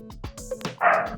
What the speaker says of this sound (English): Sorry, it's my dog, Luca.